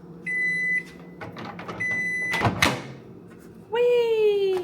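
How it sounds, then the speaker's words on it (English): A microwave oven heats up a cup of matcha at home: a steady hum and short electronic beeps, with a door sound and then a loud rising tone near the end, all close and clear. "I am heating it up in the microwave."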